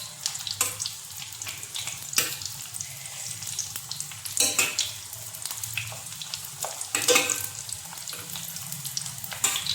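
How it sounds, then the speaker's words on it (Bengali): Fritters (bora) reheat in oil in a pan with a steady, close hiss and sizzle, broken by occasional clatters and scrapes of a utensil, and no talking. "গরম করে এই যে বড়াগুলো গরম করছি"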